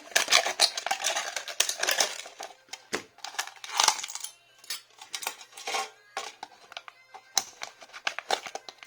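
Scissors cutting along the sides of a sheet of cosplay craft material, a close, loud run of crisp snipping and crunching bursts with short pauses between cuts.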